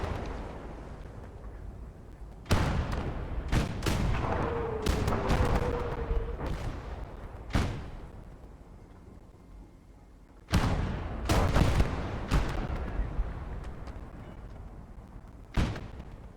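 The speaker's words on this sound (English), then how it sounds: "You see artillery coming in, here tanks shooting off, all sorts of things are going on." Artillery and tank cannon fire in the Gates of Hell war video game: loud booming blasts arrive in irregular bursts, several in quick succession, with rumbling decays and quieter lulls between volleys; no talking.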